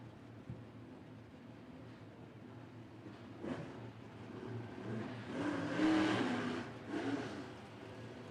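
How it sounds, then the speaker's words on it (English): Modified race cars at Winchester Speedway after a green-white-checker finish, engines idling and revving at a distance under steady crowd and track ambience, rising briefly as a car throttles up. "Some of the cars still need to clear the speedway."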